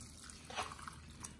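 Hot water is poured into a coconut flour, flaxseed and psyllium husk bread mix, a brief, faint splashing trickle close by in a quiet kitchen.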